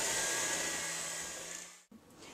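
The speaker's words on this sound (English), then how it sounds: "We're going to mix it again real briefly just to get everything incorporated together and on low." An electric mixer whirs steadily on low through chocolate sourdough cake batter, a close, even motor hum that winds down and cuts off near the end, followed by a faint clatter.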